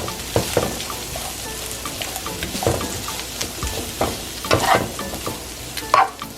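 Turkey fried rice with garlic sizzles in a pan as it is stir-fried, with irregular scraping and tossing clatters over a steady frying hiss.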